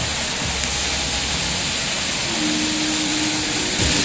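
A New York steak sizzles in a hot pan, a steady broad hiss and crackle that holds at an even level throughout with no talking.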